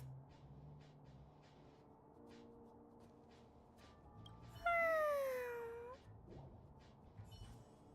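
A cheese cat meows once in the video game Honkai, a loud drawn-out descending cry standing out over quiet background game sounds and faint ticking.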